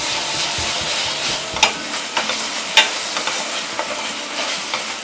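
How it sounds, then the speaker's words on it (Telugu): Ginger garlic paste fries with onions in a pan, sizzling steadily while a spatula stirs and scrapes, with occasional sharper clinks against the metal, close and with no talking. "దీన్ని పచ్చివాసన పోయేంత వరకు వేయించుకుందాము."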